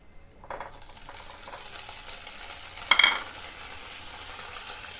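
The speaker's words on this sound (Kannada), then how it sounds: "ಸ್ವಲ್ಪ ಇವನ್ನೆಲ್ಲ ಫ್ರೈ ಮಾಡ್ಕೊಂಬರ್ತೀನಿ ನೋಡಿರಿ" Paneer and vegetables fry in hot oil for a dhaba-style paneer kadai, giving a steady soft sizzle. Partway through, a short clatter of stirring in the pan stands out. No one speaks.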